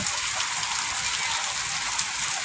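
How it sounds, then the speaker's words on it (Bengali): Heavy rain pours steadily in the Andaman Islands, a dense unbroken hiss of drops hitting surfaces, close and constant. "প্রচুর বৃষ্টি হচ্ছে"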